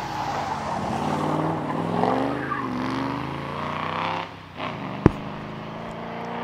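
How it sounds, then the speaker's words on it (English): A Triumph TR8 races up the Prescott hillclimb at a historic event, its engine note rising and shifting through gears as it approaches and passes, followed by a sharp bang near the end. "Here comes the TR8."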